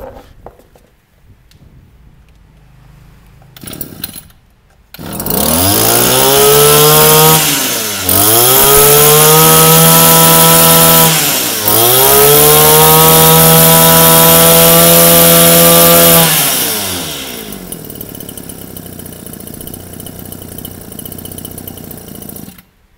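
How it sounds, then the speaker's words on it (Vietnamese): Japanese-made G3 grass trimmer with a 30 cc two-stroke engine being pull-started, a few rough tugs, then the engine catches into a loud buzzing whine that revs up and down several times before dropping to a lower idle. "em thử giật nổ các bác nghe thử mã số con G3 nhé"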